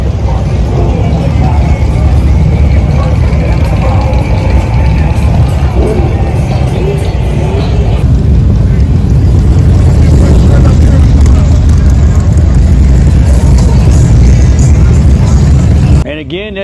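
Motorcycle engines rumble steadily down a crowded street strip lined with bikes at Biketoberfest, a loud, continuous low roar of passing bikes with shifting revs throughout.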